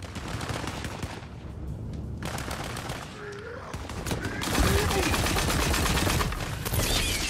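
Rapid bursts of gunfire rattle in the fantasy shooter game Tiny Tina's Wonderlands as an arcane device is fired, dense repeated shots with some lulls, while a voice talks over the action.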